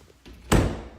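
A house door closes with a single solid thunk after a faint lead-in shuffle, close and alone.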